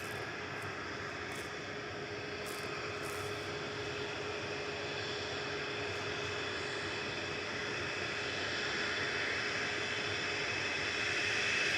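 A Boeing 777 airliner flies over near Manchester Airport, its engine drone a steady, distant roar that slowly builds louder toward the end, with no voices.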